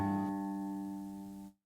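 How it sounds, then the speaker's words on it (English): A single plucked note on an acoustic guitar rings out cleanly and alone, sustaining steadily for about a second and a half before it is cut off. "So if I were to just play this one note by itself, it would sound like this."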